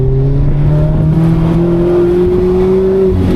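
A Mazda Miata accelerating on an autocross course: a loud, close engine drone climbs steadily in pitch as the car pulls under power, with no talk over it.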